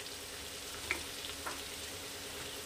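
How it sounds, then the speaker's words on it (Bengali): Sliced onions soften in hot oil in a pan for a Bengali fish curry, with a faint, steady sizzle, soft stirring taps and no talking. "পেঁয়াজটা একটু সফট হয়েছে, এটাকে আমি পুরো লাল করে ভাজবো না"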